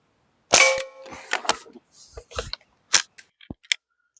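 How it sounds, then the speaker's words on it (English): An Umarex Legends Cowboy Rifle fires steel BBs, giving several sharp, close cracks and clicks in an uneven sequence with short gaps between them. "the Legends Cowboy Rifle is designed to shoot with steel BBs"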